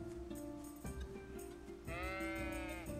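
Sheep bleat in the medieval game Kingdom Come: Deliverance, a few drawn-out, wavering calls from nearby animals, the last one longest, over low steady ambient background sound.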